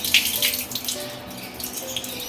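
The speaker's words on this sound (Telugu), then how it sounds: "కందిపప్పు తీసుకున్నాను, కడుగుతున్న వాటర్ పోసి" Tap water splashes into a vessel of toor dal as it is rinsed in a kitchen, a short burst of pouring and sloshing.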